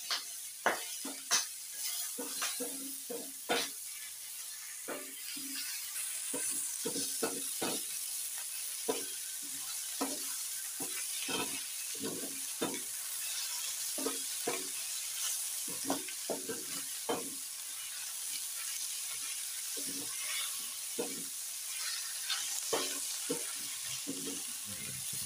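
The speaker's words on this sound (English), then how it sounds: "Give it a stir." Tomatoes frying in a pan for matumbo dry fry, a soft steady sizzle under repeated scraping and clinking strokes of a spoon stirring through the pan, continuing for a long stretch.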